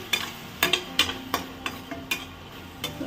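Tomato and onion fry in a pan for a bhindi curry, and a utensil stirs them with sharp, irregular scrapes and knocks, about eight strokes over a soft, close sizzle.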